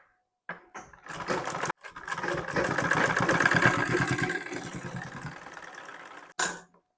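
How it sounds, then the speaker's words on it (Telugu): Electric sewing machine stitching piping onto a blouse hand and back neck, a steady motor whir running for several seconds between brief pauses, close and alone with no talk. "థ్రెడ్ని లోపలికి అయితే పెట్టేసుకొని స్టిచ్చింగ్ అయితే చేసేసుకుందామండి"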